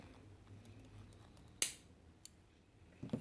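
Scissors snip through fishing line for a DIY holiday gnome: one sharp, close, crisp cut stands out in a quiet room, followed by a smaller tick and light handling noises.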